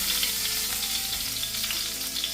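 Black cumin seeds and dried red chillies fry in hot oil, giving a dense, loud, continuous sizzle close up, with no voices.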